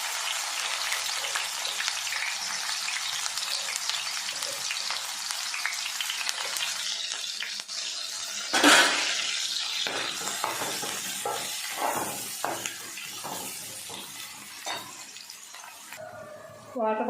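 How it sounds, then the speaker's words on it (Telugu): Onion and green chillies with a little shahi jeera fry in hot oil while being stirred, a steady broad sizzle for the whole stretch, with a sharper clatter partway through and scattered utensil knocks and clinks toward the end. "ఉల్లిపాయ సగం వేగిపోయింది"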